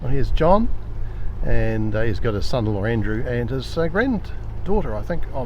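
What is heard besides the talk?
No everyday noises stand out.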